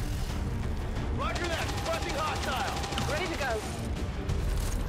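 Suppressive gunfire in XCOM 2 rattles in a sustained burst amid a busy, loud battle mix, with whooshing shot sweeps over a dense rumbling background.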